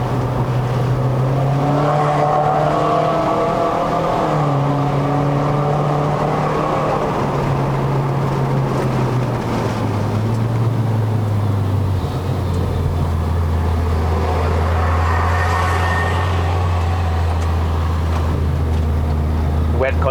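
A turbocharged Proton Inspira 2.0 with a CVT drives uphill on a wet mountain road, its engine droning loud and close with a slowly falling then steady pitch, while people talk over it.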